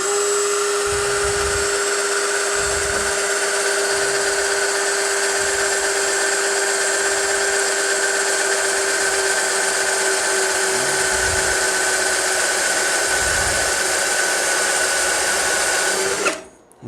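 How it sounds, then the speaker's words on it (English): A power drill whines steadily as it bores into the metal body of a lawn tractor being built into a hot rod, a loud continuous tone held for about sixteen seconds before cutting off abruptly. "we'll drill right about there"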